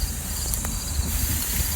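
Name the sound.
cicadas buzzing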